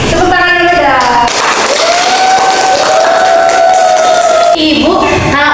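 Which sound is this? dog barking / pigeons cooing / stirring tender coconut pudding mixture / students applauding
students applauding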